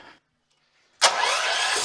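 A small repaired generator engine, primed and fed fresh gas, catches abruptly after a brief silence and settles into a loud, close, steady running roar.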